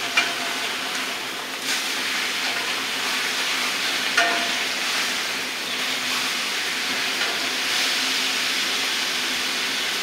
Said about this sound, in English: flip the steak and sear the other side for another 2 minutes